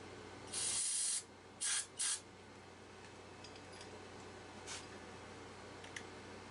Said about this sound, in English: Now we've got a little bit of carburetor cleaner,